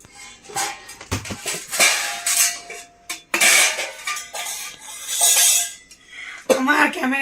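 Rice being served onto plates at home, with clinking dishes and cutlery scraping in irregular bursts, close and fairly loud, alongside voices and a cough.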